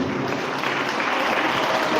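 Audience applause fills a church, a dense, continuous wash of clapping that holds loud and even throughout.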